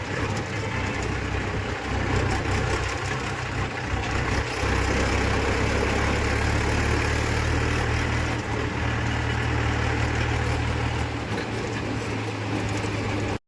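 A loaded tractor with a small trolley runs its engine, a constant low rumbling drone that holds steady and loud for the whole stretch, with no voices over it.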